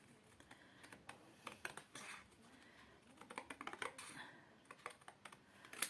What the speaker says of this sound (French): je vais aller découper au niveau des pointillés pour qu'ils rentrent dans l'encadrement